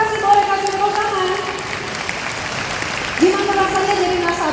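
Audience at a Prudential corporate event claps in a continuous, moderately loud patter, with people talking over it.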